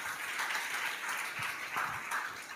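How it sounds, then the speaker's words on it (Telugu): A congregation at a Christian sermon claps together, a quiet, distant patter of many hands that rises and falls in soft waves for a couple of seconds. "నమ్మితే చప్పట్లు కొట్టండి"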